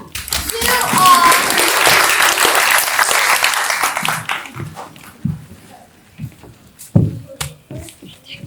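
An audience at a youth stage production of Alice in Wonderland bursts into loud clapping that fades out after about four seconds, followed by scattered talk and stray sounds from the stage.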